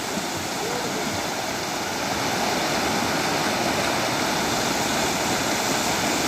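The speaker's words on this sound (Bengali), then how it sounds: "সমুদ্রের মতো ঢেউ আছড়ে পড়ছে পানির শো শো শব্দ খুবই ভালো লাগছে" Water rushes steadily with a loud, continuous roar like waves washing ashore, a broad hissing wash throughout with no break.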